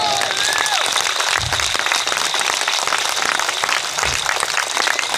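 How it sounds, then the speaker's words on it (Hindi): An audience at a business celebration programme in Gangarampur, West Bengal claps loudly and steadily, a dense wash of applause throughout, with a voice faintly underneath. "अपने लिए ताली बजाना है और इतना जोर से ताली बजाना है"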